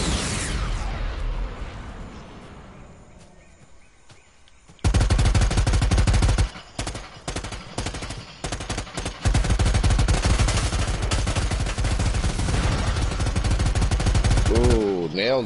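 Rapid automatic gunfire rattles in the video game Predator: Hunting Grounds, loud and sustained through most of the stretch after a quieter opening, with brief pauses between bursts.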